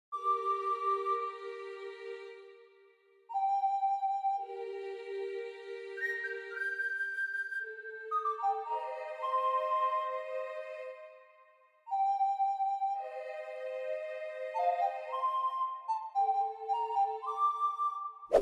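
Layered piano and choir melody for a dark African trap beat, sustained tonal phrases rising and falling in sections with brief gaps, clean and alone without drums.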